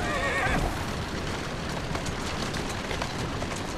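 A horse in Assassin's Creed Syndicate gives a short, loud whinny at the very start, followed by steady clip-clopping hooves and a dense street-and-carriage bustle that runs on without talk.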